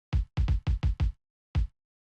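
An unprocessed kick drum sample plays as a quick cluster of five deep thumps in an uneven, stuttering rhythm, then a short pause and one final hit, each short and punchy, heard alone with nothing else.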